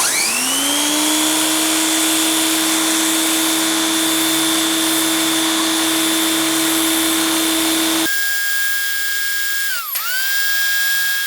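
Harbor Freight pressure washer fitted with an upgraded hose and handle, its motor whining loudly and steadily for about eight seconds before cutting out, followed by a quieter high tonal hum with a brief dip in pitch, no talking.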